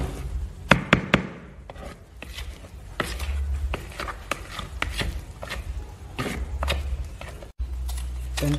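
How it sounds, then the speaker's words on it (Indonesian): A spoon or utensil stirs cake batter mixed with fermented cassava in a bowl, giving irregular close knocks and soft scraping clicks, some sharper taps early on, with no talking. "Kita aduk secara merata."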